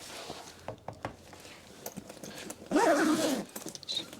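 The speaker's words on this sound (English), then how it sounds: "So nice easy zips." A zipper on a transmitter winter case pulled in one quick, loud run, preceded by a few light clicks and handling taps close by.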